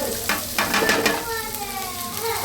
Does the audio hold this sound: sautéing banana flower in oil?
yes